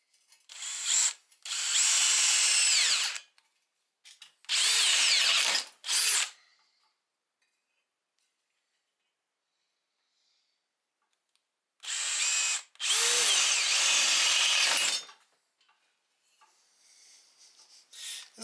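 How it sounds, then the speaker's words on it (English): A power drill bores holes in metal for a chop saw mount, with three long whining bursts of drilling close up, separated by stretches of near silence. "I've got them all drilled, and then I drilled through and put a 1/2 inch hole in the bottom"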